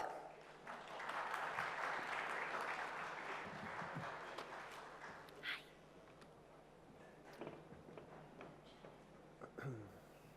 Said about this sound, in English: So please put your hands together and very warmly welcome at Goa Fest 2018, the founder, SharpEnd, Mr. Cameron Worth.